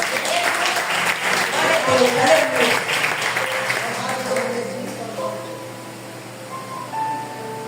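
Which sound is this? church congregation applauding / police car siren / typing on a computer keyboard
church congregation applauding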